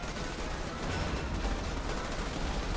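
A machine gun turret fires steadily in the sci-fi strategy game Starship Troopers: Terran Command, a continuous dense rattle of automatic gunfire with battle noise that stays loud and unbroken throughout.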